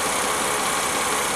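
A car engine running at idle, a steady broadband hum and rattle with no change in pitch, close by.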